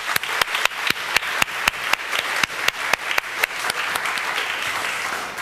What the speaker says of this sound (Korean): 우리 다시 한번 영적 스승 되신 모든 분들에게 한번 박수 한번 보내도록 하겠습니다.